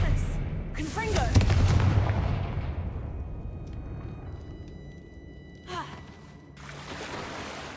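Confringo fire spell blasts in the Hogwarts Legacy video game, a couple of booming explosive bursts with rumbling decay and crackle, mixed with game sounds and a brief gasp.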